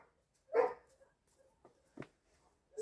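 A dog gives a single soft bark nearby, followed by a second faint woof and a few quiet whimpering sounds in an otherwise quiet setting.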